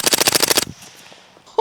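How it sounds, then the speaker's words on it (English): Subsonic 9mm rounds fire through a forced reset trigger in a rapid burst of about ten evenly spaced, loud cracks into a berm. A short quiet follows, then another sharp shot begins at the end. "Shooting the 9mm subs with an FRT under nods"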